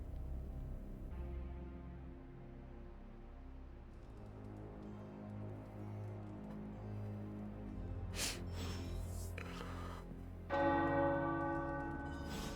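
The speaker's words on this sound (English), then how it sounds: "The tower bells are ringing." Tower bells ring out in slow succession in a video game, resonant tolls layered over one another, with a brighter chime near the end.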